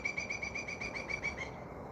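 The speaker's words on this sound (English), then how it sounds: "Did you hear that bird? Sounded kind of exotic." An exotic-sounding bird repeats a quick high chirp about ten times in a steady rhythm. The calls are fairly clear against a broad background hiss.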